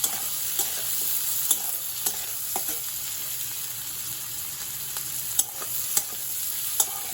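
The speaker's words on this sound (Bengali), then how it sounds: "পেঁয়াজগুলো খুন্তির সাহায্যে আর একটু টুকরো করার চেষ্টা করছি" Onions fry in a pan while a spatula breaks them up, producing a soft steady sizzle punctuated by sharp scraping and tapping strokes, close and alone.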